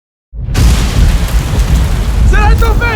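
A loud, booming roar of bursting explosions surges in after a brief silence and keeps rumbling, with a voice calling out near the end.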